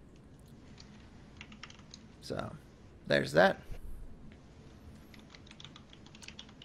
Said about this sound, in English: Somebody doing some good typing.